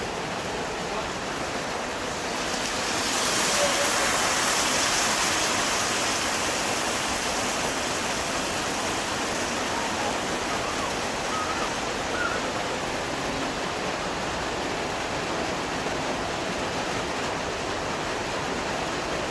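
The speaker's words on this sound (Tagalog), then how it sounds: "Lagyan na natin ang ating gata." Coconut milk simmering and sizzling in a pan for ginataang tilapia, a steady dense hiss that swells slightly early on and then holds even and close, no voices.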